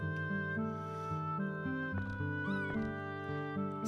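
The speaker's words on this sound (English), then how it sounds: "It's just a cat." A cat meows in the video game Chrono Cross: a short in-game meow over steady, layered background music.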